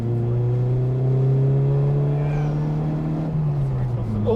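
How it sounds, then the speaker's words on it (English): An 80s Ford Fiesta XR2 with a 71-horsepower engine pulls hard after a downshift, its engine giving a loud, close, droning note that holds steady and then sags slightly near the end. "let me put my foot down. Let's drop a gear."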